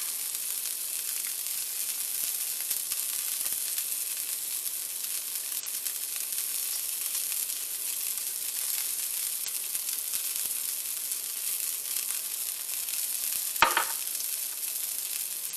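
Meat sears in a pan with a steady, bright sizzle that holds evenly throughout. Near the end a single short clatter breaks through. No voices are heard.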